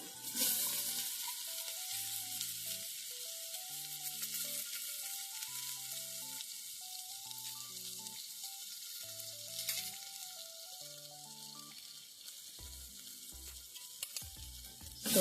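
Split green chillies and onion fry for vegetable khichdi as a faint, steady sizzling hiss in a pan, heard under a quiet melodic background music track with no speech.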